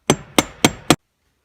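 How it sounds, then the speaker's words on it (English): A hammer strikes the bottom of a flat-edged pry bar to loosen the shifter on a 2003–2004 Ford Mustang Cobra T56 transmission. Four sharp, evenly spaced metallic blows land close up and stop abruptly into silence. "hit on the bottom of it with a hammer, and that should loosen everything up"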